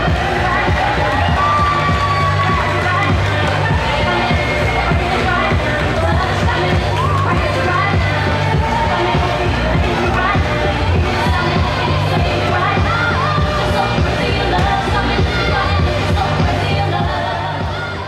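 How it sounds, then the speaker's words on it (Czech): A packed hall at a business academy's school-leaving ball in Mohelnice erupts in loud, sustained cheering and applause, with shouts and whoops carrying on without a break for the whole stretch. "Prosím, potlesk!"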